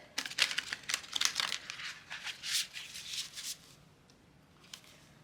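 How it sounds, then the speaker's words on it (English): Soft papery flicks and riffles of oracle cards being shuffled, a quick burst of crisp shuffling close by, then fading to near quiet. "Try and shuffle on camera for you guys."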